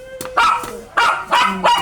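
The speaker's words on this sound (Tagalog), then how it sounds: "ang ingay na aking aso" A dog barks loudly and close in a home kitchen, four sharp yappy barks in quick succession over under two seconds, with a whimpering tone between them and no talk.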